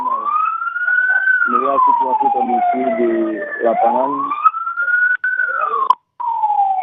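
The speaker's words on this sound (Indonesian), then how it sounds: "kami baru saja mendengar ada suara sirine." A wailing emergency siren at a landslide search-and-rescue site rises and falls in slow sweeps, loud and continuous, while someone speaks over it.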